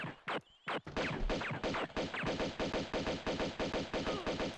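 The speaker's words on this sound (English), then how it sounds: "There's someone shooting at me as well" Enemy gunfire in the video game Tomb Raider 2, a loud rapid rhythmic stream of game gunshots, roughly twenty evenly spaced shots after a few opening bangs, with no talk over them.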